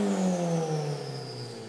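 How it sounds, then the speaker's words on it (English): A car engine screams at high revs, its strained, buzzing whine holding loud and close before easing slightly in pitch. "You can literally hear how high the engine is revving in this video."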